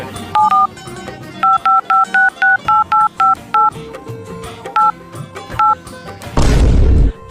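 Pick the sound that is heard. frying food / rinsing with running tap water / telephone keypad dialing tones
telephone keypad dialing tones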